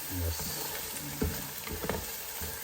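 Ginger and garlic frying in a pan for tomato rice, a steady close sizzle with a few stirring scrapes and clacks over the top, no talk.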